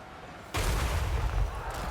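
Gunfire from shooting units in the Total War: Warhammer 3 strategy game bursts in after a short quiet lead-in, then keeps up as a loud, dense rumble of overlapping shots with no pauses.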